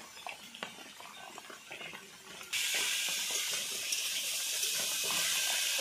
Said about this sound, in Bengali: তারপরে হচ্ছে জল দেবো।